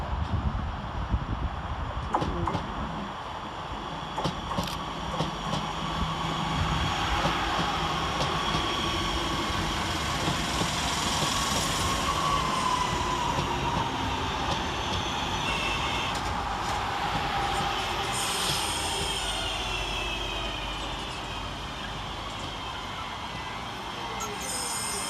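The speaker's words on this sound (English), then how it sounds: "Crawling off the cross city line is 323214 and 323202, working the 1204 West Midlands Railway service from Lichfield Trent Valley to Birmingham New" Two West Midlands Railway electric units, 323214 and 323202, crawl slowly past Aston station, a steady rumble of wheels and motors with occasional squeals and clicks, moderately distant and continuous.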